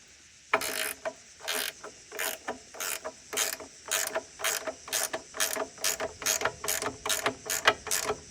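A 12mm wrench ratchets a nut tight on a Ridgid MS-UV miter stand, model AC9946, fitted with a lock washer. About sixteen quick, fairly loud metallic clicks repeat in a steady rhythm, with no talking.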